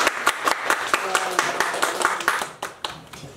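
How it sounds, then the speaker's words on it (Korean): Church gathering audience clapping, a group of hands beating in a quick, fairly regular rhythm close by for a few seconds before tapering off. "여러분. 박수."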